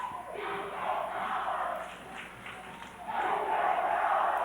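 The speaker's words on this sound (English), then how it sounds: "Listen to that crowd," A high school basketball crowd roars and cheers in a packed gym during overtime, a dense sustained wall of voices that swells louder toward the end, with no clear speech above it.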